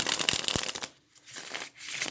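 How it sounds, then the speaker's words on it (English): A deck of sturdy, slightly stiff tarot cards is shuffled by hand, giving a quick papery riffle up close, then softer shuffling rustles. "the size of the cards in your hand makes it manageable to shuffle"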